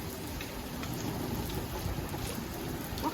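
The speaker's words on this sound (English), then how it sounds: "It's the rain falling on the barrels." Heavy storm rain drums steadily on garden barrels in a dense, unbroken patter, with a low thunder rumble mixed underneath throughout.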